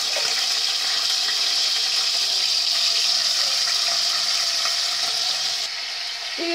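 Elephant foot yam (jimikand) fries in a pan with a continuous, loud, close sizzling hiss that holds steady for the whole stretch, with no speech.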